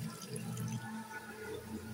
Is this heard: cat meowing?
no